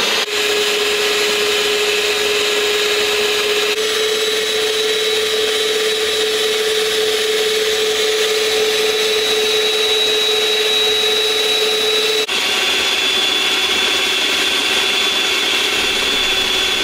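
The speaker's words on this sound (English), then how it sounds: "all I gotta do now is close my mixer and just hit play. So go slowly at first." A stand mixer creams butter and sugar for a Jamaican fruit cake, giving a steady, loud motor whir with a constant pitch that runs the whole time and shifts slightly partway through, with no talking.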